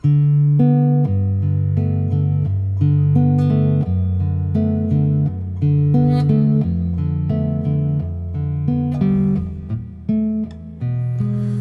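Fingerpicked guitar rolls through a continuous pattern of bass and treble notes from a song, loud and close, with no talking.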